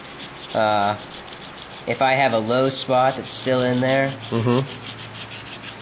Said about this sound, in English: we're going to file the face of the stainless steel